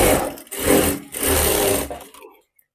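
Sewing machine stitching a blouse, three loud close bursts of fast mechanical whirring with short gaps between them, then stopping into near silence.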